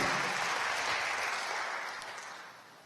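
Congregation applauding during a church service, a dense, steady wash of clapping from many hands that carries on throughout and tapers slightly toward the end, with no speech.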